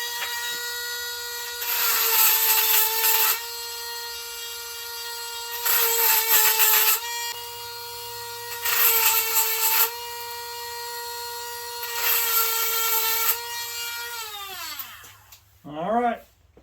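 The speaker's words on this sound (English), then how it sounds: "I've got my little Dremel tool to do it the wrong way, and I've marked one of the teeth so I know where I start and where I stop." A small Dremel rotary tool grinds a saw blade's teeth in a garage, a steady high whine with four bursts of loud grinding as it touches the metal, then winds down at the end.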